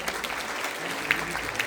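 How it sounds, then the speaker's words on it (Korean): An audience at a Siheung city mayor's inauguration ceremony applauds, a steady close wash of clapping from a crowd, with a few sharper claps standing out. "여러분 큰 박수 부탁드립니다."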